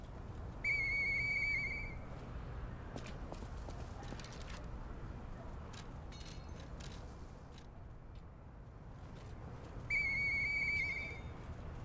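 A whistle in the video game Lies of P sounds twice as a bright sustained tone, once early and once near the end, each lasting about a second. Clip-clopping hooves and game ambience run underneath.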